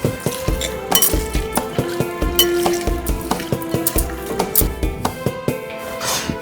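A spoon clinks and scrapes against a pot while murrel fish curry is stirred in village style, a steady rhythm of close metallic knocks over a soft sizzle.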